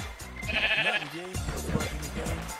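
A Minecraft sheep bleats a few times in quick succession, loud and close, with game sounds around it.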